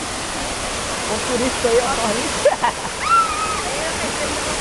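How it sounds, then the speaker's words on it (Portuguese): Waterfall with a steady, loud rushing hiss that continues throughout, while people talk over it at close range. "Nós na cachoeira."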